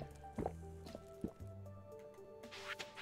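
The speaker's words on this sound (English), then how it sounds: "Let's drink the coffee." A character drinks coffee in the farming video game Stardew Valley: a few soft, wet gulping and liquid sounds play faintly over calm background music.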